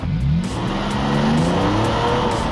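A sports car accelerates hard around a road course, its engine loud and continuous with rising pitch sweeps as it revs up through the gears, no voices over it.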